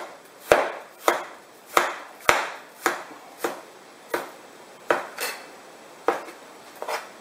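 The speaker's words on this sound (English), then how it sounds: "By the time I cut these 2 packages of meat up" A knife chops through raw meat for stir fry on a cutting board, giving about a dozen sharp, evenly spaced knocks, close and clear with no talking.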